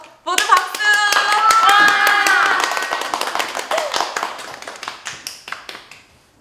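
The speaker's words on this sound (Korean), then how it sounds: "모두 박수!" A classroom of students bursts into applause for a classmate's top exam score, many hands clapping densely at first and then thinning into scattered claps as it fades, with a voice briefly heard over the start.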